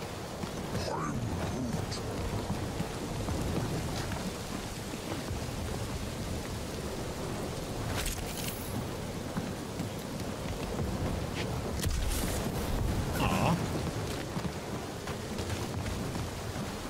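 Steady rain hisses throughout a scene in the video game Guardians of the Galaxy, with faint rumbles of thunder in the background and characters talking over it.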